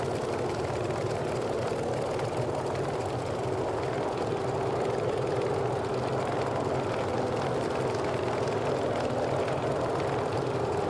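Grumman F3F piston-engine aircraft in Microsoft Flight Simulator drones steadily at reduced throttle on approach to landing, a continuous loud rumble with a faint hum holding level throughout and no talk.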